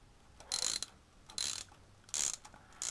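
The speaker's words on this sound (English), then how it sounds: "take your long wrench deep well 5/8 socket" A long wrench with a deep well 5/8 socket tightening a spark plug on a V-twin 950 engine, giving three or four faint ratcheting clicks in short bursts, close by.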